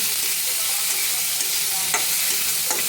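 Onions fry loudly in a pan with a dense, steady sizzle and a few sharp crackles and stirring scrapes, close and continuous with no talk.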